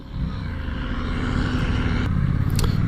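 A 2023 Suzuki GSX-8S motorcycle accelerating hard in riding mode A, a steady loud engine drone that builds slightly in pitch, heard close over wind noise without talk.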